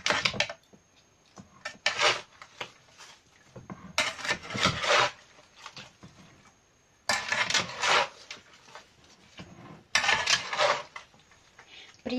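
Winter vegetable salad of cabbage, tomatoes and cucumbers being stirred in a metal basin, giving bursts of scraping, clattering and wet rubbing that come and go in uneven spells, close and moderately loud.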